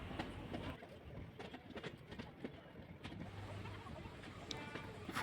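Inside a moving passenger train travelling from Delhi to Dharwad, a low, continuous rumble with faint rhythmic clatter fills the carriage, quiet and steady.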